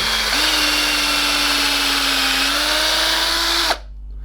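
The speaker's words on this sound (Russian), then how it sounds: "нужно держать шуруповерт ровно по горизонтали и по вертикали" A cordless screwdriver driving screws into plywood whirs steadily for several seconds, its motor pitch rising slightly near the end before it cuts off abruptly, leaving quiet.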